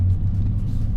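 A Dodge Hellcat passes on a public road with a deep, steady engine rumble, close and heavy for the full second.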